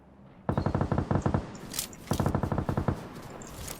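Automatic gunfire in PUBG: two rapid bursts of loud, evenly spaced shots, the first around a second long and the second slightly shorter, with a brief pause between them and no talk.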